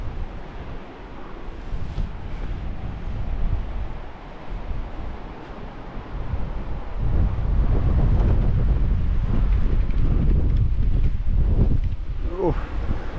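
Strong wind buffets the microphone during wild camping in the far north of Scotland, a continuous roaring rumble that swells louder in the second half, with a voice briefly heard.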